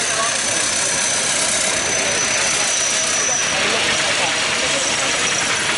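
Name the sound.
unusual steam traction engine running at steam fair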